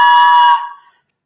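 Birthday whistle blown once in a loud, shrill, steady tone for about half a second, then trailing off into silence.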